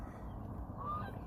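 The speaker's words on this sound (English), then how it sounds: "the geese are over there, like, barking at him" Geese honking in a park, a faint, distant call or two rising briefly over steady low background rumble, with no talk.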